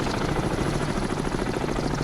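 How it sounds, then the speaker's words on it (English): A helicopter hovers overhead in the submarine game Cold Waters, dipping its listening device into the water, and its rotor produces a loud, steady, throbbing roar that fills the whole moment. "That's a helicopter. That is not a noise that any submarine commander wants to hear."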